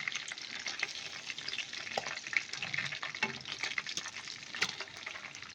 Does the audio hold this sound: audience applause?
no